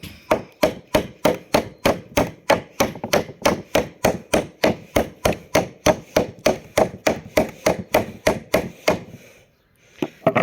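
A rapid series of sharp, evenly spaced bursts from an electric screwdriver driving screws into wood to build a dog place board, loud and close, with a brief lull near the end.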